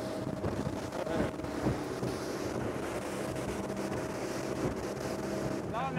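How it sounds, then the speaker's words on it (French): An Iron 707 motorboat runs flat out at around 35 knots, its engine a loud, steady roar mixed with rushing water and wind buffeting the microphone, no break in the noise throughout. "Thibaut nous montre toutes les capacités du moteur."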